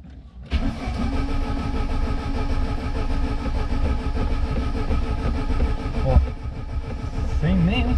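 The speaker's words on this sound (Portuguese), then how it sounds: "Eu vou tentar dar partida nele aqui, ó." Chevrolet Celta car engine cranking and failing to start, the starter grinding loud and close in a continuous rapid churn that never catches.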